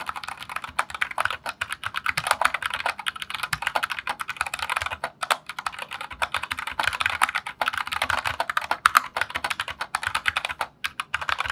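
Fast, steady typing on an Anne Pro 2 mechanical keyboard, a dense run of crisp close-up key clicks with brief pauses, alone without talk.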